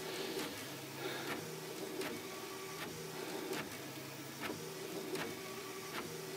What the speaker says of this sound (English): as you can see, it is printing at the very top